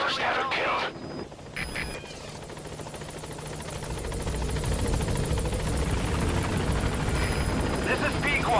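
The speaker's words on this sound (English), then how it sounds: "I'll send the extraction chopper." The extraction helicopter in Metal Gear Solid V arrives, its rotor thrum and engine roar building steadily louder and closer. Voices and game sounds come briefly at the start.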